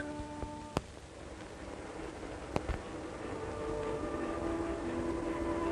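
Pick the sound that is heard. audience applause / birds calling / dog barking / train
train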